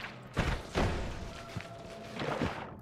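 Explosion in the magic roguelike Noita: a pair of dull, thudding blasts close together, then a fading rumble and a smaller double thump near the end, moderately loud with no voices.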